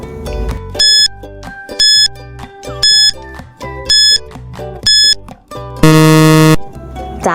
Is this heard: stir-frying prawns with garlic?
no